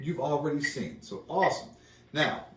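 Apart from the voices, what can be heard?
No everyday noise stands out behind the speech.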